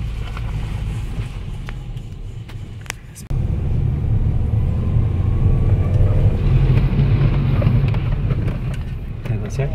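A low-riding car crawls over a rough dirt road near Caxambu, a steady loud rumble with jolts and scraping, its engine and road noise building after a brief dip, with no talk over it.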